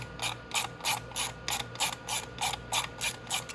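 A ratchet wrench with an 8 mm socket loosening sprocket cover bolts on a 250cc Venom x22R motorcycle, giving a steady run of about twelve crisp, close clicking bursts in even rhythm, with no talk.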